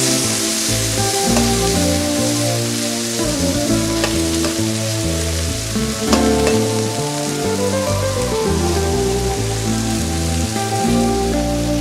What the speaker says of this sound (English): Mix those peppers with the beef and the onion and the garlic.